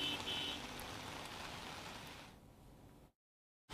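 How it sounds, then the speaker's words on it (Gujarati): Light drizzle falling across Ahmedabad city, heard as a soft, steady hiss of rain with faint background hum, fading out before a short silence at the end. "અમદાવાદના મોટાભાગના વિસ્તારોની અંદર અત્યારે ધીમી ધારે વરસાદ શરૂ થઈ ચૂક્યો છે"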